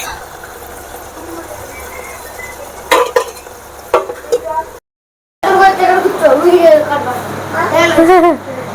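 Curry leaves and spices frying in a pan, crackling and sizzling with utensil scrapes, heard close under someone talking, briefly cut out midway before louder sputtering resumes.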